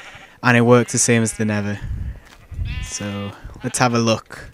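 Sheep bleat repeatedly in the Minecraft video game, loud, wavering cries mixed in with someone talking throughout.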